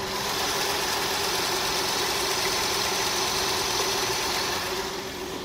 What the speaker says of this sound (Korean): 굉장히 정숙하고 규칙적인 엔진 사운드 들려주고 있고요